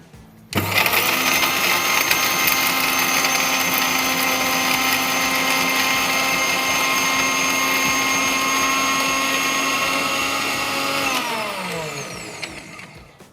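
An electric grinder whirs loudly as it grinds roasted spices into masala powder, a steady high-pitched motor drone running for about ten seconds before winding down.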